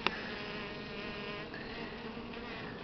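Buckfast honeybees buzz steadily around the hive during a spring inspection, a dense, continuous drone close by, with many insects humming together and no voices.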